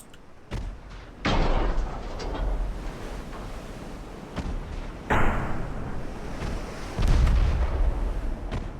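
Warship guns boom in naval battle game Ultimate Admiral Dreadnought, from a ship carrying 10-inch, 8-inch, 4-inch and 3-inch guns, with several heavy blasts spaced over seconds amid rolling rumble and sea-like wash.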